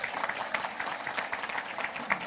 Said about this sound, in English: your clapping is so boring